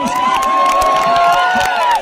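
Audience at a Bhojpuri stage show clapping and cheering in a dense, continuous roar of crowd noise with musical tones ringing through, loud and sustained throughout.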